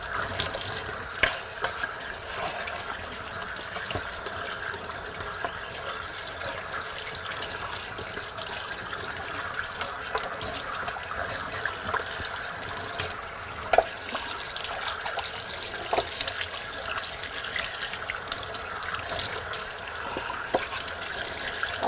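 Tap water runs steadily into a sink while meat is rinsed, a continuous moderate splashing flow with occasional small clinks and drips over it.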